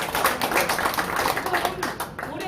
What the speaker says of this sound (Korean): 큰 박수 한번 보내주시고